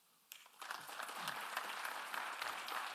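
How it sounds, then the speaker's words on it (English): An audience bursts into applause after a presentation at a system wide information management event, clapping starting suddenly and building into a steady, dense round that carries on to the end. "Let us give another round of applause to the presenters who have presented today"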